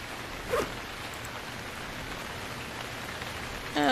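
Steady rain pours over an island in the survival game Stranded Deep, a constant even hiss throughout, with a brief soft game tone near the start and another chirping tone at the very end.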